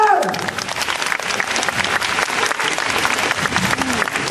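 A crowd at a live rock and roll stage show at Universal Studios Japan applauds loudly and continuously, a thick sustained clapping wash with a brief shout at the start.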